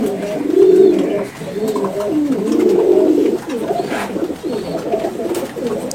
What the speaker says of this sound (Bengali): কবুতরটা খুব নড়াচড়া করতেছে, ও হাতে আনইজি ফিল করতেছে